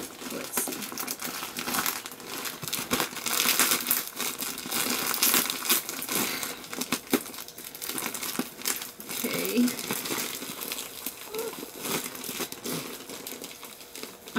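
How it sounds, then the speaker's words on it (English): A Malco Modes petticoat package is unwrapped up close, its plastic and paper crinkling and crumpling steadily with sharp rustles and occasional tearing, and no talking is heard. "So, unboxing and unwrapping of Malco Modes Petticoat."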